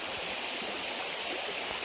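Clear mountain water in a stream at Hidden Falls in the Sierra Madre, General Tinio, Nueva Ecija, gives a steady, close, hissing rush of flow with no break and no voices.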